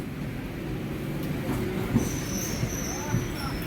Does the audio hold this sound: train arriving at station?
yes